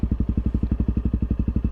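A Honda CRF 250 dirt bike with an FMF exhaust runs at a fast, even single-cylinder thump, each beat evenly spaced, close by and loud with no talking.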